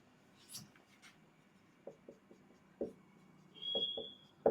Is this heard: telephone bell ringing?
no